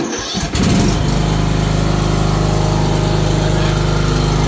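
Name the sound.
engine starting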